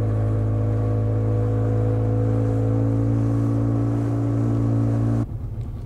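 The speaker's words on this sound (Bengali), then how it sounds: "আমাদের স্পিড বোট রাইড চালু হয়ে গেছে।" A speedboat engine drones loud and steady on a ride at Maithon Dam, close and continuous, then cuts off abruptly near the end.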